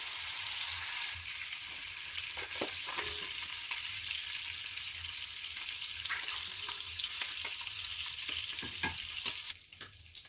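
Beef sizzling and frying in a pot for boeuf bourguignon while a utensil stirs it, with a steady crackling hiss throughout and scattered scraping knocks from the stirring.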